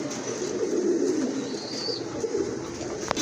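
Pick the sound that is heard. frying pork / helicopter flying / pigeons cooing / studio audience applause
pigeons cooing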